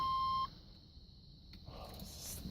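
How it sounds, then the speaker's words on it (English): A steady electronic seatbelt warning chime in a 1983 Buick LeSabre wagon with an LT1 engine swap sounds for about half a second, then cuts off, leaving quiet background noise. "Is this seatbelt thing going to shut up if I have my belt on"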